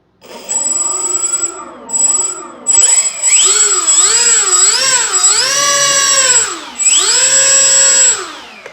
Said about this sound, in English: When you go full throttle, it bogs.